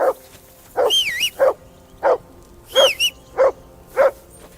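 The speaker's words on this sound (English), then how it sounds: "That barking was a pain in the ass." A dog in Kingdom Come Deliverance 2 gives a run of close, clear barks mixed with high whining yelps, irregularly spaced with short pauses between them.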